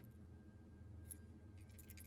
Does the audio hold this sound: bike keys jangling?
yes